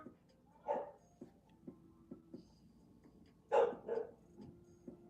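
A dog barks a few times indoors at a moderate distance, with two louder bursts near the middle of the stretch and quieter room noise between them.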